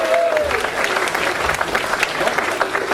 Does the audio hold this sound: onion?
no